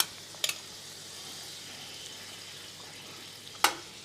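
Butter sizzling in a hot pan for scallop casserole, a soft steady frying hiss with two sharp clinks of a utensil against the pan, fairly quiet and with no talk.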